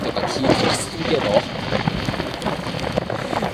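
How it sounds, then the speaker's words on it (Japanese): Light winter rain driven by strong wind at a lakeside bass-fishing spot, a steady close patter and gusting rush, with someone speaking over it. "爆風&今日は小雨やね、昨日と違って。"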